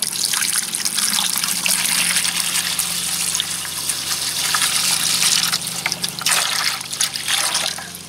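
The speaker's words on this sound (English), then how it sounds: "So we're going to go ahead and start putting the vinegar in there." Vinegar pours steadily into a bucket, a continuous trickling and splashing stream that runs without pause, close and fairly loud.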